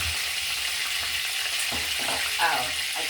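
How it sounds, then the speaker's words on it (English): Oil sizzles and crackles steadily in a frying pan, a constant hissing texture with faint background noise. "What I'm doing while the oil is sizzling"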